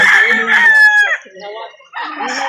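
A rooster crows loudly and close by at a chicken market in Calauan, Laguna, a long strained call, followed by softer clucking from chickens nearby.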